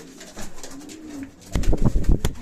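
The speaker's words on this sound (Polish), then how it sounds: "Piękny gołąbek." A young pigeon in a breeding loft gives soft, close coos, followed by louder, throatier cooing bursts and rustling toward the end.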